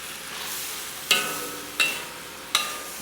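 Chop suey being stirred and mixed in a frying pan, with a steady hiss of sizzling and three distinct scraping strokes of the utensil at regular intervals, heard close up.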